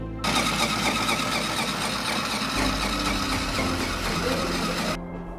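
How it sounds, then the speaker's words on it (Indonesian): Sewing machine stitching the curved edge of a cloth face shield mask, a dense, continuous mechanical whir running for about five seconds and then stopping abruptly. "kemudian kalian jahit menggunakan mesin jahit di bagian lengkungnya"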